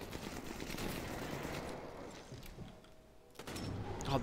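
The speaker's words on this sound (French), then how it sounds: "Putain, par contre, celui-là, la mitrailleuse." Machine gun fire in the video game Sniper Elite 4, a dense, sustained rattle of rapid shots over battlefield noise, easing off briefly before picking up again near the end.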